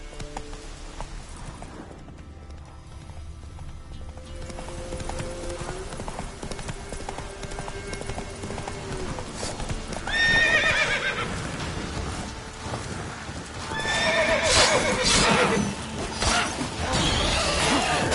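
Galloping horse hooves clip-clop steadily through The Witcher 3: Wild Hunt on PS5, with whinnies and neighs rising over the hoofbeats later on, set against continuous game ambience and music.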